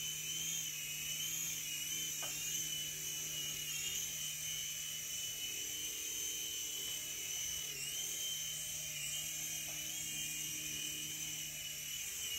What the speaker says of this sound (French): L'hélico il fait tout le travail en fait.